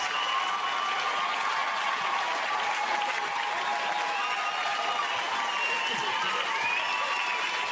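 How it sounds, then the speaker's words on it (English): Applause from a large audience at a live stand-up comedy show, a continuous even roar of many hands clapping with faint crowd noise, sustained at steady loudness throughout. "Thanks for the old clapping."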